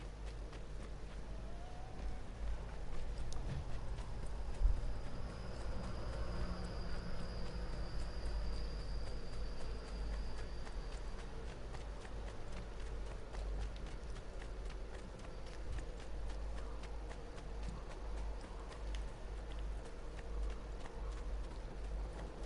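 Horse hooves clip-clop steadily in the game Assassin's Creed 2, a continuous walking-pace rhythm under ambient game music and background atmosphere, with no talk.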